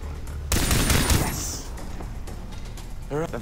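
A fast-firing weapon in the Far Cry 3 hunting game lets off a loud, close burst of rapid shots that trails into rattling echoes and a short mechanical click.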